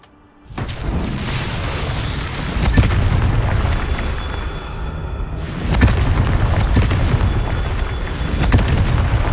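Confringo fire-blast spell explosions in Hogwarts Legacy on PS5: a deep, rumbling boom bursts in after a brief silence, roars on with heavy low-end, then a second blast surges midway and keeps the sustained thunder going.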